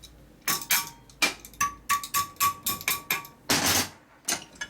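A hammer strikes a bent metal clamp in a rapid series of about a dozen sharp, ringing clanks, close and loud, with brief pauses between bursts.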